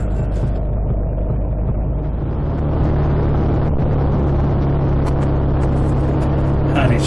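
A BSA A65 motorcycle ridden along a winding Welsh road toward Devil's Bridge: a steady, low engine drone with a throbbing exhaust, heard close with some wind rush.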